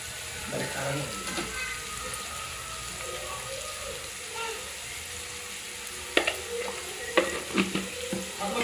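Onions frying with salt in a pan for a drumstick and milk curry, a steady low sizzle with occasional stirring clatters and scrapes, a few sharper utensil knocks near the end, no talk.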